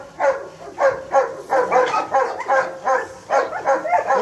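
Leon the dog barks close and loud in a rhythmic series of about nine sharp barks, evenly spaced with brief pauses between them.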